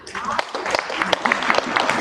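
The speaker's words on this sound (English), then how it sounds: "Come on, clap it up for the panel." A school career day crowd applauds a panel with sustained, dense clapping that fills the room evenly from start to finish.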